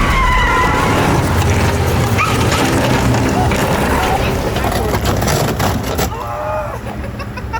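A Tesla Cybertruck and another truck strain against each other in a pushing match, with loud continuous engine and tire noise close by under excited talking.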